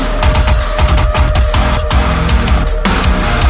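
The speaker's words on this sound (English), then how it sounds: "fat metalcore snare that sounds like this?" Mixed metalcore snare drum hit in a rapid, punchy pattern alongside a full drum kit, loud and close, sharp repeated cracks over low thumping kicks, no talking.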